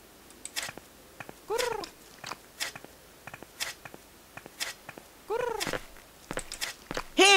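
A cat in the video game Harveys neue Augen makes meows and short chirping cries, with scattered clicks and brief bursts spread across the scene and a louder cry at the end.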